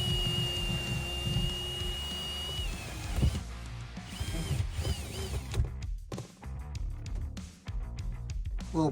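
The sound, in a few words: drilling a hole in a truck camper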